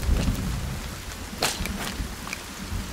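Rain falling in the survival game The Forest, a steady hiss of downpour with scattered sharper drop hits and a low rumble underneath, continuous and fairly close.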